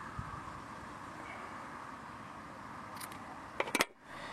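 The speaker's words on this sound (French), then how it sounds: "Ces ciseaux coupent très bien." Scissors snip off excess fishing line in a few quick, crisp cuts close by near the end, after several seconds of quiet room noise.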